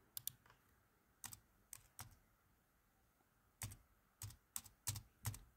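Typing on a computer keyboard, with sparse clusters of close, crisp key clicks separated by short pauses and a quiet room in between.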